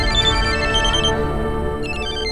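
Electronic telephone ringtone in an Odia film scene, a loud continuous tonal ring that stays steady throughout with no speech over it.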